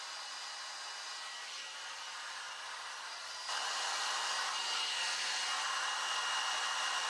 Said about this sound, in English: I'm about 10 minutes into the diffusing process and it's looking really good.